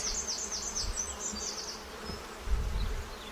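Honey bees drone steadily around a backyard hive, a close, continuous buzz that wavers in pitch as individual bees fly near, with faint low rumbles underneath.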